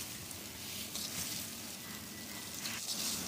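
Boiled chicken and masala sizzle softly in a pan over low heat, a steady faint frying hiss with light stirring scrapes throughout.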